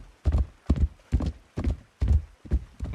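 Horse hooves clip-clop at a steady walking pace in the Rising World game, seven evenly spaced, fairly close thuds over a few seconds with no talk.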